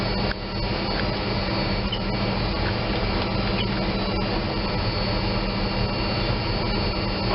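A Lockheed L-1011 TriStar jet engine spools up during a start, heard from inside the cockpit as a loud, steady, broadband roar and whine that holds constant throughout, with no talking.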